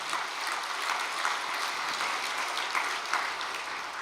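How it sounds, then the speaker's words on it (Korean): A church congregation applauds in encouragement, a dense, continuous wash of many hands clapping at steady volume throughout, with no voices standing out. "여러분들 격려의 박수 한번 보내주시기 바랍니다"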